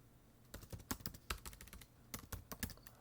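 Close, quick computer keyboard typing: irregular bursts of crisp key clicks with short pauses, no voices.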